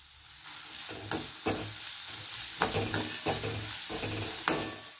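Finely chopped onions fry over high gas heat in a pan, sizzling steadily while a utensil stirs them in repeated scraping strokes, close and alone.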